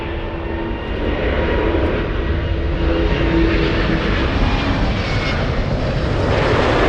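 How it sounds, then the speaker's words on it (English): An Airbus A350-1000 airliner arriving at LAX on its daily flight from Haneda roars steadily overhead, a loud broadband jet rumble that swells slightly and holds for several seconds with no voices. "And we have the A350-1000 flying in from Haneda"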